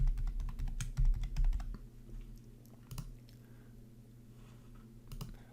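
Computer keyboard typing a login name and password, rapid clustered key clicks at close range, strongest in the first two seconds, then sparser taps with quiet gaps and a few isolated keystrokes near the end; no talking.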